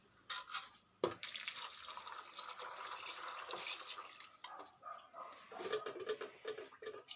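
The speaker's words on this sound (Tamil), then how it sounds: "அதில் 1/2 கிலோ பட்டாணிக்கு நான் 2 பாத்திரம் தண்ணி ஊற்றுறேங்க" Water pours steadily into a pressure cooker for several seconds, splashing and gurgling close by after a brief clatter, then trails off into drips.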